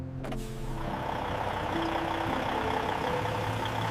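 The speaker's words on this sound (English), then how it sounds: "The engine starts and palm oil leaves the mill behind" A heavy truck engine at a palm oil mill kicks into life with a brief burst, then settles into a loud, steady rumble with a faint tonal whine, continuous to the end.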